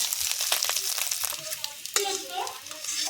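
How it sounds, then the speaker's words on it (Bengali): Onions and potatoes fry in oil in a kadai, giving a steady close sizzle with occasional stirring scrapes and some faint background noise. "লাল করে ভেজে নেব। ভেজে নেবো আলুর সঙ্গে।"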